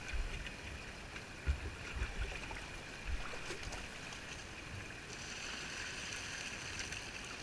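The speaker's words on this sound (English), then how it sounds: "Just going to scoop up water from behind the camera here." Stream water scooped with a True Temper spade beside a gold-prospecting sluice setup, heard as faint splashing and sloshing over a steady rushing flow, with a few soft knocks along the way.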